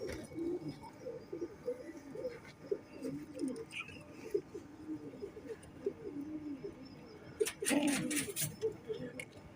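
A pair of pigeons, the female cooing repeatedly in low, throaty bursts close by, with a louder flutter and scuffle near the end.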